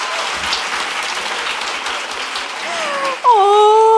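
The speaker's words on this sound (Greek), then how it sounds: "Ένα χειροκρότημα από όσοι δεν με έχετε ξαναδεί ποτέ." An audience at a Greek stand-up comedy show claps in dense, sustained applause, and whistles rise over the clapping near the end.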